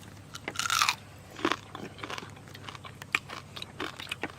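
Cooked crab being eaten, with close, crisp crunches and cracks of shell as it is bitten and chewed, coming in irregular bursts with quiet pauses between.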